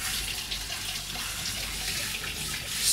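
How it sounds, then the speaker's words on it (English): Water runs steadily from a tap, rinsing caustic paint stripper thickened with xanthan gum off a surface, a soft continuous splashing hiss with no talk. "so I should give that a rinse off"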